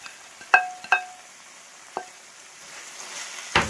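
Bacon stirred into a pan of sizzling bourbon bacon jam, with a steady frying hiss and a few clear scrapes and clinks of a utensil against the pan.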